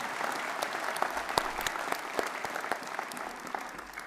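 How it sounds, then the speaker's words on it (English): A graduation audience claps in a dense, sustained round of applause, many hands heard at a moderate distance and steady throughout. "clap for that one."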